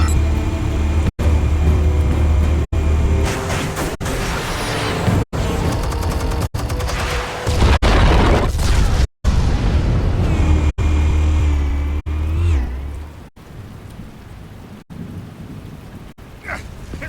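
Armed explosives go off in the Batman Telltale video game: a loud, continuous roar of blasts and crashing debris with repeated sharp cutoffs. The rumble fades to a lighter crackle near the end.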